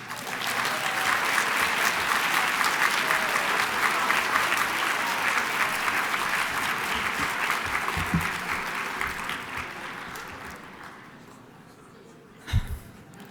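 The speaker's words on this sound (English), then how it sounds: "So everyone just give the people around you, yourself, the person next to you, a round of applause." A conference audience applauds, a dense sustained wash of clapping that holds for about ten seconds before fading out, with a single loud thump near the end.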